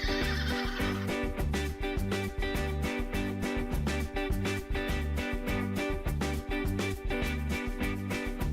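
Horse neighing for a farm animal figurine diorama, a loud whinny rising over a steady rhythmic music bed with no talking.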